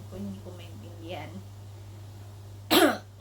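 A single harsh cough bursts out near the end, loud and close, after some faint murmured sounds over a steady low hum.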